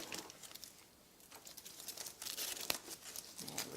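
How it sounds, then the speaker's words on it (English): Aluminium foil peeled off a small chocolate truffle cake, with soft, close crinkling and crumpling in quiet bursts and one sharper tearing rustle near the end, faint overall. "Take the foil off"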